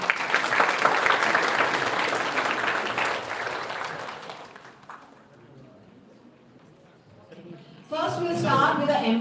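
An audience at an academic conference prize-giving applauds loudly for several seconds, fades to quiet murmuring, then bursts into renewed clapping near the end.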